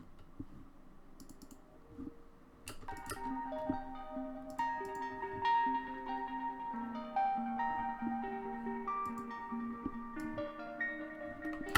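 Bright metallic mallet-like notes from an Indonesian metallophone synth preset ring out in a steady melodic pattern, overlapping and decaying, fairly soft with no voices.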